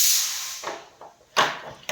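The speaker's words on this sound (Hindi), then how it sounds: "कुकर में चढ़ा रखे हैं छोले।" A pressure cooker of chickpeas vents steam in a soft hiss at first, then lets out short sharp bursts of hissing, each one separated by quiet.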